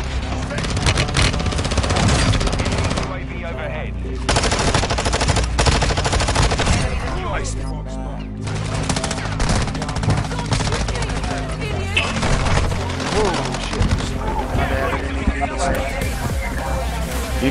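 Video game gunfire during a Halloween multiplayer montage: rapid automatic bursts and single shots crack repeatedly, loud and close, with brief pauses between volleys. Players talk over the shooting.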